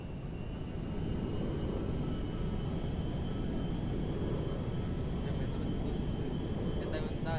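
The Merryweather cargo jet flying in the video game GTA 5, a steady loud roar of jet engines sustained throughout, with radio chatter over it.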